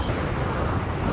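Wind buffets the microphone while riding a Ninebot One E+ electric unicycle outdoors, a loud, constant low roar filling the short stretch with no speech.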